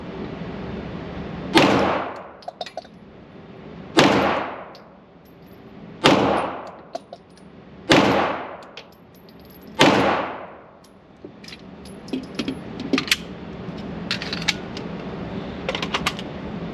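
Five loud, close gunshots from an unsuppressed Rival S firearm, fired singly at roughly two-second intervals, each with a sharp crack and short ringing decay, followed by faint clinks and handling noise.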